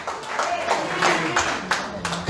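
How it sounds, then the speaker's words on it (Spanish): A church congregation claps in a rhythmic beat, a run of sharp, evenly spaced claps under a voice. "Den un aplauso al Señor, hágalo con fuerza"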